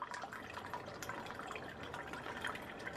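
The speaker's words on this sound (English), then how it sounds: "We need a cup of balsamic vinegar. And of course it's got a restrictor on it, so I can't pour it fast." Balsamic vinegar trickles slowly from a bottle with a pour restrictor into a cup for a pork marinade, a faint, thin stream of liquid with small drips.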